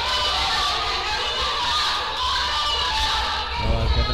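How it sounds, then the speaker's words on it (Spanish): Crowd at a lucha libre wrestling show in the Halcón Galáctico gym, a broad sustained roar of shouting spectators filling the space, with a commentator's voice rising over it near the end. "¿Cómo? ¿Cómo la gente le grita?"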